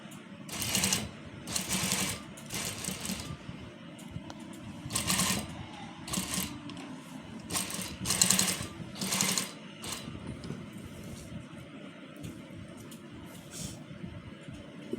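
A sewing machine stitches a double scallop line on trousers in fine thread, running in short bursts of rapid whirring with brief pauses between them, close and moderately loud with no talking.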